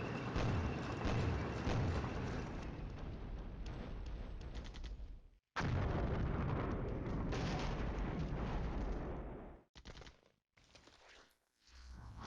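Artillery fire in the Flashpoint Campaigns: Southern Storm wargame, a dense, loud roar of overlapping shell bursts rumbling almost continuously, broken by a sudden silence midway and a few short gaps near the end.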